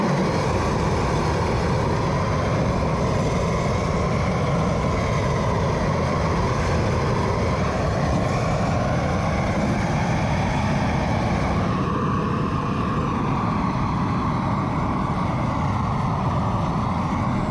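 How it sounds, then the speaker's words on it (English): A blowtorch roars steadily and loudly as it chars wood for shou sugi ban in a backyard, a continuous broadband rushing flame with no talk over it. "Let's light up the blowtorch and let's have some fun here today in my backyard."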